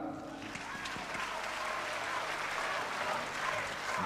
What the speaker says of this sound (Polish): prosimy o brawa